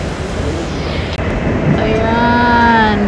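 A Singapore MRT brown line train heard from on board or at the platform, with a steady rumbling roar and rising tonal whine as it moves, loud and close, with no talking.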